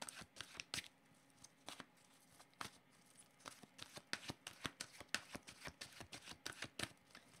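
Oracle cards being shuffled by hand before a draw: soft, crisp riffling flicks in an irregular but steady rhythm, close and quiet with no talking.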